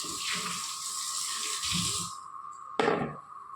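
Water runs steadily from a tap while ginger is rinsed beneath it, with a short splashy burst near the end.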